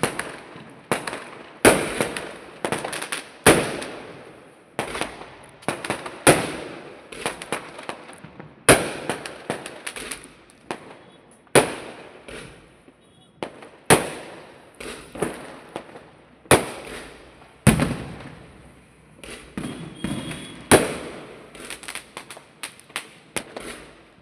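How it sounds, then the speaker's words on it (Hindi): Firecrackers bursting repeatedly during a festival, sharp loud cracks and pops in irregular succession, some in quick clusters, each followed by a brief fading echo over about twenty-four seconds with no talk. "यहाँ पर अभी आप रियल आवाज़ में सुनिए पटाखों की आवाज़"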